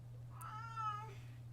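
A cat gives one clear, drawn-out meow, moderately faint, over a steady low electrical hum.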